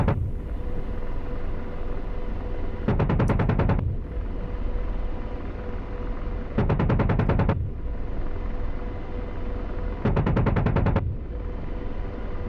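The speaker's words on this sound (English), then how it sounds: "Guns, guns, guns." The 30 mm chain gun of an AH-64D Apache in the DCS World flight simulator, three loud rapid-fire bursts of about a second each over a steady rotor and engine drone.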